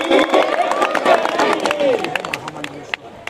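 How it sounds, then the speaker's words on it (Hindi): A seated crowd at a Bageshwar Dham gathering in Khajuraho breaks into loud clapping mixed with shouting and voices, a dense burst of claps that thins out over a few seconds. "अरे जोर से ताली बजा के जय श्री राम।"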